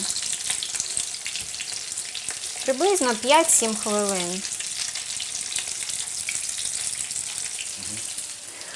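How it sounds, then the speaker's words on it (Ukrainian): Buckwheat patties sizzle steadily in a frying pan, a constant close crackle with a brief spoken remark over it partway through. "І обсмажую гречаники з однієї і з іншої сторони до такої рум'яної скоринки."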